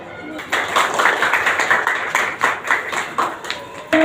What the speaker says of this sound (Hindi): जोरदार तालियां सभी बच्चों के लिए